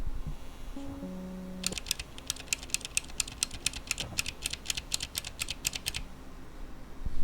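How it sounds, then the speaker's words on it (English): Blue mechanical keyboard switches pressed in a rapid, steady run of sharp clicky keystrokes, close and crisp, lasting several seconds before stopping, with faint low background hum and no talking. "So let's see how these sound. So this is the blue one."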